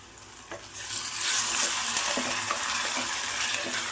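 Ginger garlic paste fries in oil with half-fried onions for beetroot curry, a bright steady sizzle with scraping stirs and clinks of a spoon against the pan, close and continuous.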